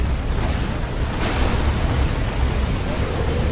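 Rocket-run explosions hit the battlefield in Dawn of War 2, an Imperial Guard versus Chaos Space Marines match. A dense, loud, continuous roar of blasts rumbles without a break through the whole stretch.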